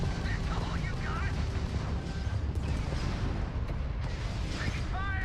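Incoming gunfire striking a ship in Starfield, a continuous loud barrage of rumbling impacts and crackling hits with electronic alert tones, while a voice talks over the top.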